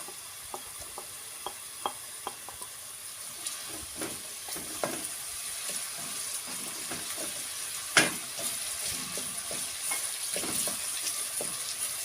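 Onions sizzle in hot oil that has turned yellow while celery with orange is cooked Aegean style. A steady frying hiss runs throughout with scattered crackles and pops nearby, and nobody speaks.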